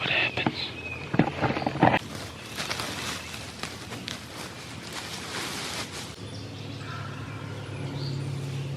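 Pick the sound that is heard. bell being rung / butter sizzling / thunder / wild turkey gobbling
wild turkey gobbling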